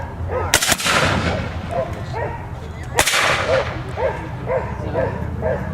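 Rifle volleys fired on shouted commands, two sharp loud cracks about three seconds apart, each cutting through a steady background of voices and crowd noise, with a dog barking nearby.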